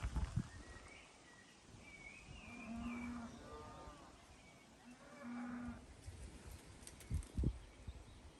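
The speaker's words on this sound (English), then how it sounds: "You can hear the cows all mooing to each other" Cattle moo in a rural country cottage garden setting, with several drawn-out calls from near and farther away and soft birdsong and faint movement in between. No one speaks.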